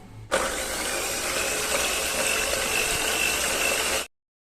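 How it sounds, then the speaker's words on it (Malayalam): Electric mixer beating eggs with vanilla for cake batter starts abruptly and runs at a steady, loud whirring drone for about four seconds before cutting off. "ആദ്യം ബീറ്റ് ചെയ്യുമ്പോൾ ലോ സ്പീഡിലാക്കിയിട്ട് ബീറ്റ് ചെയ്തിട്ട് എടുക്കുക"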